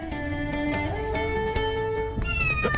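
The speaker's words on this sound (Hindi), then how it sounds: "अरे ये बिल्ली है।" A cat meows in a drawn-out, wavering cry over a bed of sustained musical tones in a South Indian movie scene, with several soft clicks and thumps underneath.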